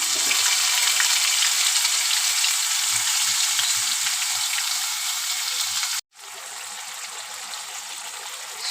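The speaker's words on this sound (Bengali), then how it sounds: "এখন আমি মশলাটা কষিয়ে নেব।" Spice paste for a brinjal and potato curry sautés in hot oil, a loud, continuous close-up sizzle that cuts out for a split second before resuming just as strongly.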